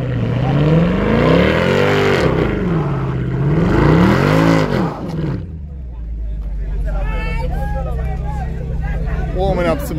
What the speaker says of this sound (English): Warming up some tires.